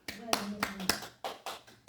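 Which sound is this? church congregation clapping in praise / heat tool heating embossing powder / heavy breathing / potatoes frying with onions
church congregation clapping in praise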